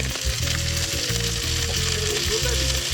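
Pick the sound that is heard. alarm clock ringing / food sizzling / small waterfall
food sizzling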